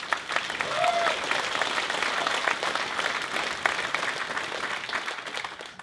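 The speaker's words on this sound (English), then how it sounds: "So I want to start with a big round of applause for all of you" An audience at a community meeting in Dovercourt claps in loud, sustained applause that fills the room evenly for several seconds before slowly thinning out.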